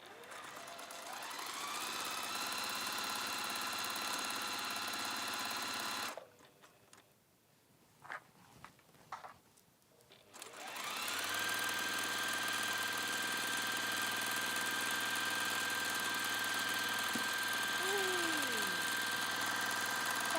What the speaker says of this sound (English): Simply top stitching so that I can close that turning through gap.